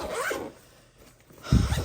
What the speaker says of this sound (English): you find yourself having to do this, you know, squeeze the bag when you're unzipping and zipping, because these zippers are